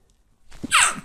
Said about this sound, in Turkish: Hapşıracağım. Hapşıracağım.